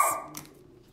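A pet dog gives one short, sharp bark nearby, followed by a second softer yip that fades quickly into a quiet indoor room.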